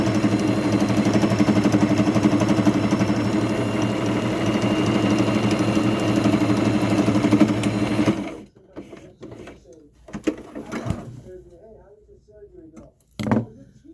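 A sewing machine runs a straight seam on a fabric baby burial cocoon, a loud, steady mechanical whir for about eight seconds, then stops, leaving quiet handling noises.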